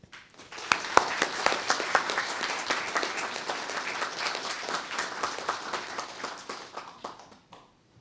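Audience applause welcoming Italy's Consul General to Hong Kong and Macau before a lecture at a university hall, dense steady clapping from a large crowd lasting about seven seconds before stopping.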